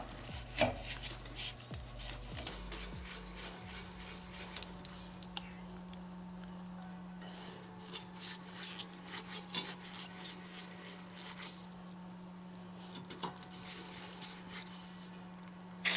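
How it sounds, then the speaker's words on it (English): Steady scrubbing of a wheel brush against car exhaust tips, a continuous metal rubbing texture with occasional sharper scrapes, close by, no talking. "We got our wheel brush."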